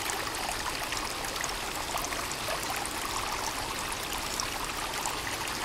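A river stream flows steadily in the Sons of the Forest VR survival game, a broad continuous rushing and trickling wash with no pauses, evenly loud throughout.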